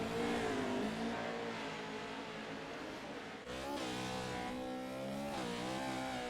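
RC race cars on a dirt track at a Pro 2 Lites dirt series race, motors whining and revving loudly and continuously with rising and falling pitch as the cars accelerate and slow, no voices.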